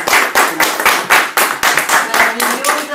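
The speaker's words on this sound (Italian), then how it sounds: "applauso per questa artista fantastica." Rhythmic clapping for a performer at a book event, loud and close, with even, regular pulses about three per second, like a crowd clapping in time.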